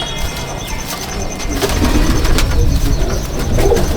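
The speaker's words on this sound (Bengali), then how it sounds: "এটা নীলদম পায়রা" A blue-tailed pigeon coos in a pigeon loft at Jangipur, Murshidabad, with soft repeated low calls over a busy background of rustling and a faint steady tone.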